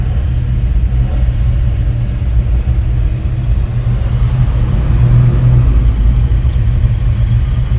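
A Lotus, a GTO and a Porsche roll past in a parade at a historic racing festival at Lime Rock Park, with engines holding a continuous low, loud rumble and a slight swell midway.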